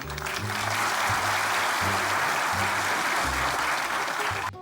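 Sustained applause from an audience at a birthday celebration for a cast member, dense steady clapping filling the whole stretch with a low rhythmic music bed underneath, no talking.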